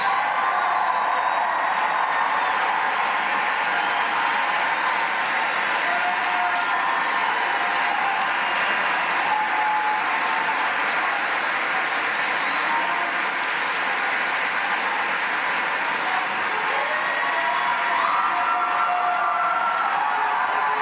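A large crowd at AmFest applauds and cheers loudly and continuously, a dense unbroken wash of clapping lasting the whole stretch.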